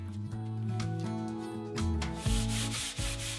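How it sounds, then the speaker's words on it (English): Steady rubbing strokes of 220-grit sandpaper over a primed cabinet surface, loud and close, continuing throughout with a rhythmic back-and-forth scrub and no voices. "sand it with 220 sandpaper before applying the first coat of finish paint"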